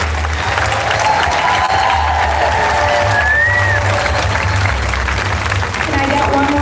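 Loud, sustained applause and cheering from a crowd at a Moms Demand Action rally in Denver, dense clapping close by with whoops rising over it and voices mingling in the mix.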